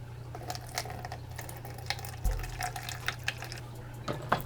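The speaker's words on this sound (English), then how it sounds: "So add 88 gram of distilled water to that." Distilled water trickles steadily into a container nearby, with small splashes and a low background hum throughout.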